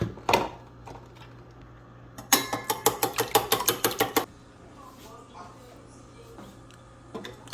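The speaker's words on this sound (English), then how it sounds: "Now I'll whisk." Eggs seasoned with adobo whisked in a bowl, a quick run of about a dozen rhythmic clinking strokes close up, with sparse clicks before and after and faint background hum.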